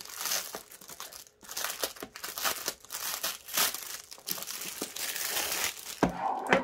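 A cardboard box being opened, with packaging crinkling and crackling loudly and close up in continuous bursts, a few sharper cracks near the end.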